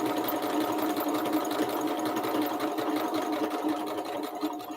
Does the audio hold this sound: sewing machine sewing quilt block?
yes